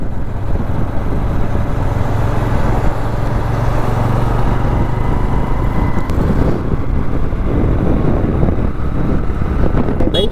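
A Honda CB125 Hornet 125cc motorcycle ridden at steady speed, its engine a continuous low drone blended with heavy wind rush against the microphone, loud and unbroken throughout.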